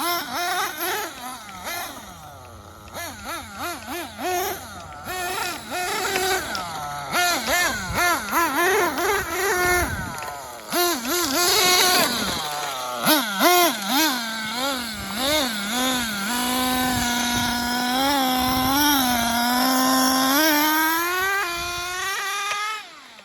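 An XTM Mammoth nitro RC monster truck engine screams and revs hard outdoors. The high whine rises and falls in repeated rapid throttle bursts, then settles into a sustained wavering drone, loud and close.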